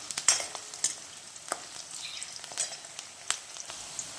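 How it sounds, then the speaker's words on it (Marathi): Sliced onion frying in a pan until golden brown, with a soft, steady sizzle broken by several sharp spoon clinks and scrapes as it is stirred, close and with no talking. "कांदा आपण मस्त असा गोल्डन ब्राऊन करून घेऊया जोवर गोल्डन ब्राऊन होत नाही तोवर आपण त्याला छान असं मस्त फ्राय करून घेऊया"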